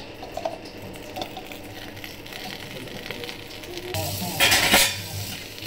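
Coriander leaves tossed into a pan of frying peanuts with chilli, giving a steady close sizzle that swells louder and brighter near the end, with faint stirring clinks.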